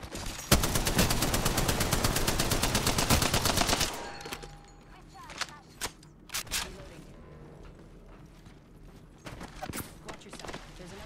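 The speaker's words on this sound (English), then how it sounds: "Getting shot at." Rapid automatic gunfire from the video game Apex Legends rattles loudly for about four seconds, then gives way to scattered distant shots and thuds during a squad fight.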